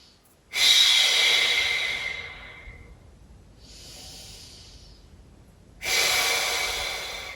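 Slow, deep breathing during a gentle stretching session: a long, airy inhale, then a softer breath, then another strong inhale. All are close and clear against near silence.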